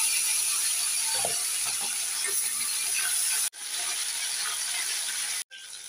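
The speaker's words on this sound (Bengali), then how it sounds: "প্রথমে আমি মাছগুলোকে ভেজে নেব।" Rohu-type fish frying in hot white oil in a wok, giving a steady, loud broadband sizzle and hiss that runs continuously with two brief dropouts, with no talk.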